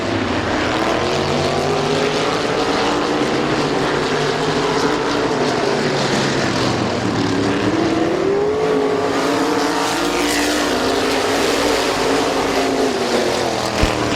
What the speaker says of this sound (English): That crate engine in the 21 of Bryce Allensworth hanging tough through the corners